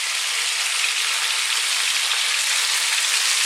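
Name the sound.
onion frying in pan with garlic ginger paste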